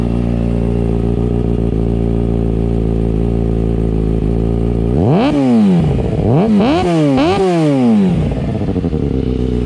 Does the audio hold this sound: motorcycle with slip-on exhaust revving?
yes